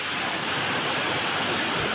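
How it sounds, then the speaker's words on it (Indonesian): Heavy rain mixed with falling gravel and volcanic ash pours down during the Lewotobi Laki-laki eruption in Nusa Tenggara Timur, a dense, steady hiss that is loud and continuous throughout, with no voices. "Sedang terjadi hujan disertai kerikil dan debu vulkanik."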